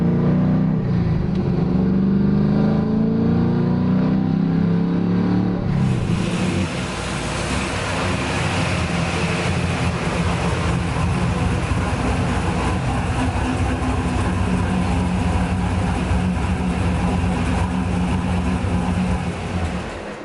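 A car fitted with a UMI adjustable torque arm accelerating hard on a test drive, its engine note rising loud and close and then settling into a steady, sustained roar with road noise.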